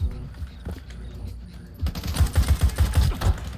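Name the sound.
automatic gunfire in the video game Stalker 2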